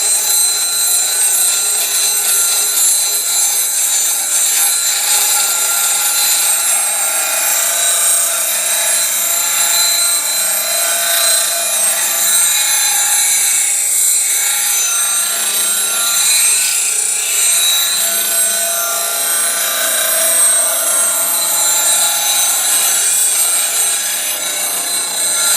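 Steady, continuous grinding as high speed steel is wasted away on a grinder to shape a round nose hook wood turning scraper, a loud unbroken hiss held at even level throughout with no talk.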